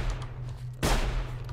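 A single sharp gunshot cracks out in the video game Sir, You Are Being Hunted, loud and sudden over a low steady hum, with a short ringing tail.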